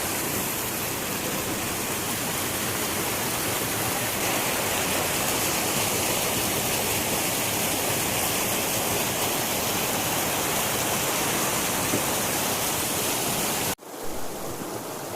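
River water flowing at the Bhairabkunda picnic spot, a steady, dense rushing hiss like a small waterfall that holds evenly for about fourteen seconds before abruptly cutting to quieter noise.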